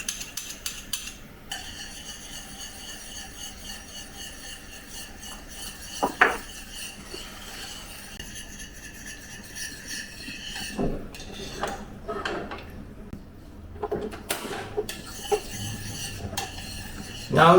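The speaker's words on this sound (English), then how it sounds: "Now I add some cornstarch slurry to thicken the gravy." Cornstarch slurry being stirred into braised pork rib gravy in a pan: a utensil clinks and scrapes against the metal with irregular taps and sharper knocks, close and fairly quiet.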